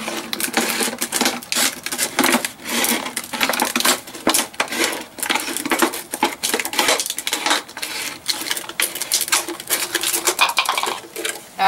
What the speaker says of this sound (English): So we're just going to cut around the bottle like this.